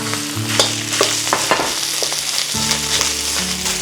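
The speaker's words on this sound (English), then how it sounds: "Stir fry the rice." Rice stir-fried in a hot wok, a dense continuous sizzle with repeated scraping clanks of a metal spatula and a steady hum of the burner underneath.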